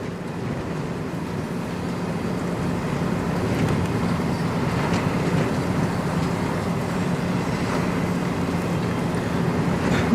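CN locomotives haul a manifest freight train through a blizzard in Sarnia, a steady low rumble and rolling clatter heard at a distance under constant wind noise.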